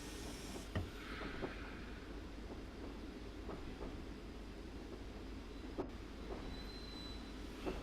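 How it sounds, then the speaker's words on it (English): Steady rumble of a Class 101 diesel railcar running through the Weardale and Teesdale lines, with faint wheel clicks and squeals and a distant locomotive shunting somewhere beyond, continuous and fairly loud throughout. "Now I should see a J54 shunting new locos around."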